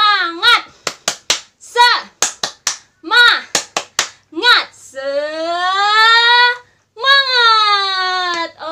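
Children at a church Sunday school service clap out a quick rhythmic pattern of sharp, close hand claps mixed with young voices, then break into a long, sustained group shout.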